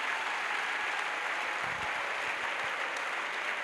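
Congregation at an evangelistic crusade clapping in praise to Jesus Christ, a steady broadband wash of many hands heard at moderate distance, continuous and even throughout with no voices standing out.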